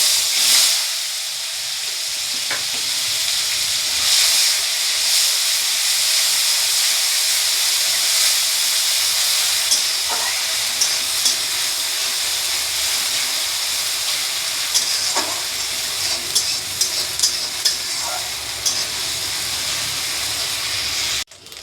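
Onion paste and a bay leaf sizzling in hot oil for a doi katla curd fish curry, a steady close hiss running throughout with scattered small pops and clicks and a brief sharper burst at the start.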